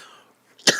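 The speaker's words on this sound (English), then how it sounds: "It's a real cough, I guess." A single short, sharp cough from a man with something caught in the back of his throat, close and loud, bursting after a moment of near silence with faint background tone.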